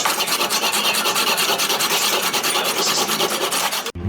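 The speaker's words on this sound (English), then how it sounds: "which we will cut to the right width with a handsaw." A handsaw cuts through a small wooden dowel with a continuous, steady rasping stroke, close and fairly loud, running for about four seconds before stopping abruptly.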